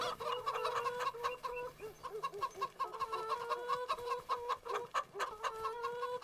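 Chickens cluck and chatter continuously in a small farm coop, several birds close by with overlapping bursts and short squawks.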